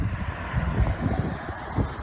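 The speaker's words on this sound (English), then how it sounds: "It's a nice sunny day, a little windy" Wind blowing outdoors on a sunny day at an oceanography institution by the sea, a steady low rumble of gusts buffeting the microphone with no talk.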